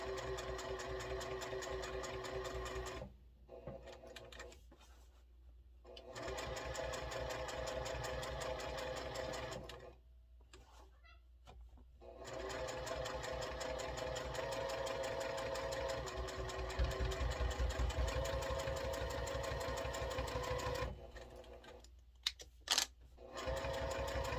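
A sewing machine stitches fabric for a post-it note case in steady whirring runs, with three short pauses between bursts, close and moderately loud, no talking.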